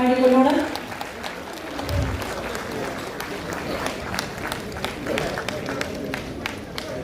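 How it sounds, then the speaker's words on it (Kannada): An audience at the Karnataka Media Academy awards ceremony welcomes Deputy Chief Minister D.K. Shivakumar with scattered claps that continue steadily across the hall after a voice briefly speaks at the start. "ಚಪ್ಪಾಳೆಗಳ ಮುಖೇನ ಬರಮಾಡಿಕೊಳ್ಳೋಣ."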